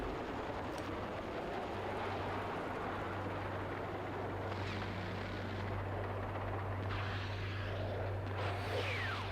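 Two helicopters fight in the video game Battlefield, their rotors and engines making a loud, continuous roaring drone with a steady low hum, while gunfire-like bursts and whooshes pass through it.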